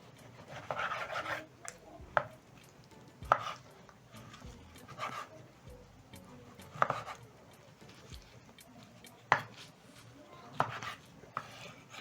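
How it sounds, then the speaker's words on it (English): Knife chopping cooked beef liver into bite-sized cubes on a board, sharp irregular cuts with sliding and scraping between them, close and clear with no talk. "the next step is to cut my liver into cubes"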